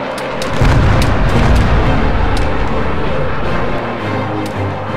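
Bombs exploding on targets in the military video game Arma 3: a loud, sustained rumble of heavy blasts that roars up within the first second and keeps booming and rolling for the rest of the moment.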